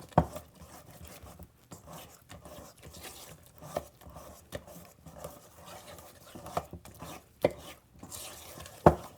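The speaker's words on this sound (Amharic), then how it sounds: "ስለዚህ ይሄንን እሽት አድርጌ አወከዋለሁ።" Thick batter holding cauliflower and chard being worked by hand in a bowl, with soft irregular squelching and scraping strokes and a few sharper knocks, close up and fairly quiet.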